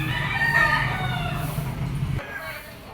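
A young gamecock stag rooster crows once, a loud, close call lasting about two seconds with a strained, harmonic tone before cutting off, with faint background noise afterward.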